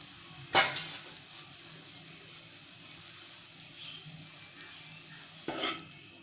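Bread uppuma cooks in a pan, with a soft continuous sizzle and two distinct clinks of a spoon scraping against the pan as it is stirred.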